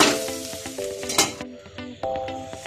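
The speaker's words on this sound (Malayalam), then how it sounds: "ഇനി നമുക്ക് ഈ മല്ലിയിലയും കൂടെ ചേർത്തിട്ട് നമുക്കൊന്ന് ലോ ഫ്ലെയിമിൽ 1 മിനിറ്റ് ഒന്ന് അടിച്ചു വെക്കാം" Chicken masala with coriander leaves being stirred in a pan over a low flame, a close, steady sizzle with repeated scraping strokes of the spoon, no voices.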